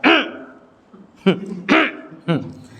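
A man leading an Islamic study session imitates a throat-clearing 'ehem' with his voice, repeating it in four short, sharp, voiced bursts separated by brief pauses, close to the microphone.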